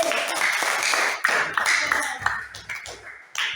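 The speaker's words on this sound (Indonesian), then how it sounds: "Tepuk tangan lagi untuk kelompok D." Students in a classroom clap for a group after a poetry presentation, a short burst of uneven, fairly close hand claps with a few sharper taps breaking through.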